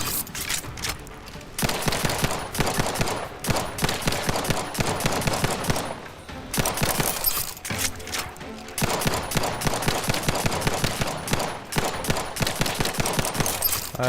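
Bursts of heavy automatic gunfire in The Outer Worlds 2 video game, loud sustained volleys broken by short pauses, with dense rapid shots throughout.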